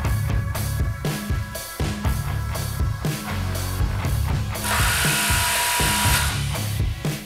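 Impact drill hammering a Craftsman bit clamped in a vise, a loud, continuous rattling drive with rapid pulsing impacts, rising to a harsher, brighter roar in the last few seconds.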